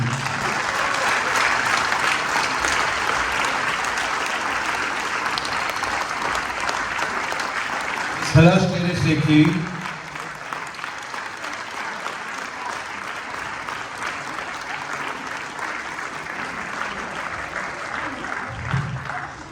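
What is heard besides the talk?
audience applauding the film team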